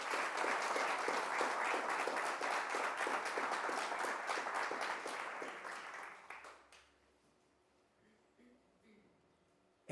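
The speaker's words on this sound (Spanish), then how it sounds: "démosle un aplauso al Señor." A church congregation breaks into loud, sustained applause that lasts about six seconds, then fades quickly into a quiet room with faint murmurs.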